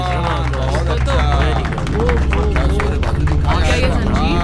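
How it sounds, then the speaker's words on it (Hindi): Applause and cheering for wrestlers at a strongman wrestling event; a dense crowd claps steadily and loudly, with babble and shouted voices mixed in throughout. "मुल्क भर के पहलवानों के लिए तालियां।"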